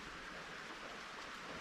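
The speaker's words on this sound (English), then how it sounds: "It's absolutely pouring it down again" Heavy rain pours down along the Carretera Austral, a soft, even, continuous hiss with no voices.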